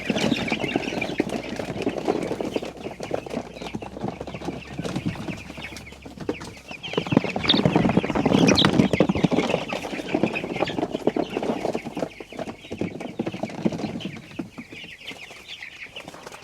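Chickens cluck and call steadily while being moved out onto fresh pasture on a farm, a busy mix of many birds at close range that swells louder midway before easing off.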